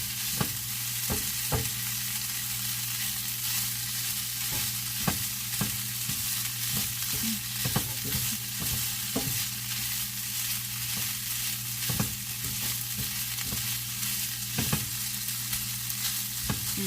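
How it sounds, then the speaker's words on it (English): Strips of steak fajita meat fry steadily in hot oil, a continuous bright sizzle with sharp scrapes and clacks as the pieces are stirred and turned at irregular intervals, close and without talk. "So you just want to turn all the meat so the oil can get through all the meat."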